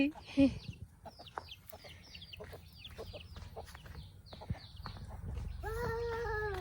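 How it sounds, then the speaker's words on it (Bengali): Chickens at a village home beside woods, with soft clucks and a few sharper calls scattered through, then a louder drawn-out call near the end, over a low rustling outdoor background. "আইমানের মুরগির ঘর এটা।"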